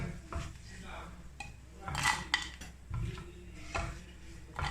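Metal utensil scraping and clinking against a pan and plate as fried dry fruits for makhandi halwa are lifted out, a few close, uneven knocks and scrapes with no talking.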